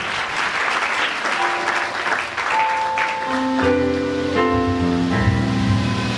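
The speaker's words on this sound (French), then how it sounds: "Acclame pour Jésus." Steady crowd applause at a French-language church worship gathering in praise of Jesus, dense and continuous, with sustained musical tones entering partway through.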